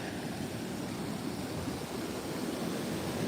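Floodwater rushing across a rural road near Sangola after heavy rain, a steady broadband roar of flowing water, close and continuous with no talk.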